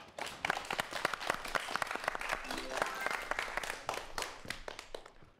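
An audience applauds as the final lecturer of a virtual reality talk series is introduced, with a dense burst of clapping that swells and continues, and a voice briefly speaking partway through.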